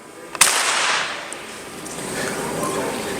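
A bullet primer, the detonator of a cartridge, fired on its own gives a single sharp, loud, firecracker-like pop, followed by a steady hiss of room noise.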